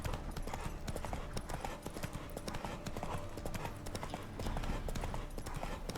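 A horse gallops in The Witcher 3: Wild Hunt, its hooves beating out a fast, continuous clip-clop rhythm, loud and close throughout.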